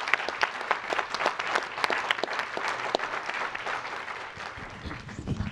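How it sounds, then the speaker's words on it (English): Warm audience applause for a panel at a climate policy session on super-pollutants, steady dense clapping from a large crowd that keeps going for several seconds, with no voices over it. "I'd like to give them a really warm round of applause for the work that they're taking on"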